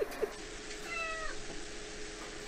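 A cat gives a single short meow, faint and somewhat distant, over a steady background hiss.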